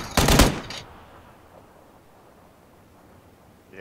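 A shotgun fires in PUBG: one sharp, loud close blast followed by a brief second crack, then a quiet tail of low game ambience with no voices.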